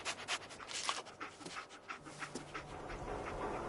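Dogmeat, the companion dog in Fallout 4, sniffs and pants close by, quick soft breathy puffs running steadily in a continuous faint stream with no speech.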